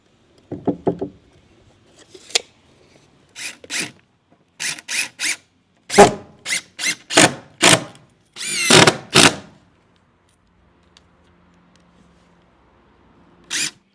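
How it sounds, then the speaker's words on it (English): Power drill driving screws into new boards on a shed ramp: a string of short, loud whirring bursts of a second or less, with brief knocks and pauses between, ending in one last burst after a quiet stretch. "Once I know that board is where it needs to be, I'll drive my screws home"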